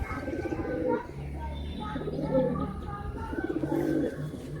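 Pigeons in a full loft in Mourigram, Howrah, giving repeated low throaty coos that overlap and pulse close by, with someone talking over them.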